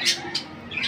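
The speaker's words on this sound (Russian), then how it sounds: "Птички наши поют" Pet birds chirp and squawk at home in a few short, fairly loud calls, close by, with no talk over them.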